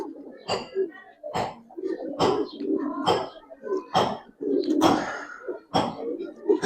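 Soft, throaty cooing of Giribaz pigeons repeats in a steady rhythm close by, interrupted by sharp clicks or taps roughly every second.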